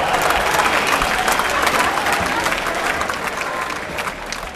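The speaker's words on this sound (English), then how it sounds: "Let me hear it for Jimi, the poster boy, Manuwa" A crowd applauding steadily at a mixed martial arts event as the winner is announced, dense clapping that stays loud and fills the space for several seconds, tapering slightly toward the end.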